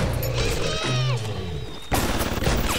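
Bursts of automatic gunfire from a turret in the video game Bioshock, dense and continuous through the whole short stretch, with game noise layered beneath.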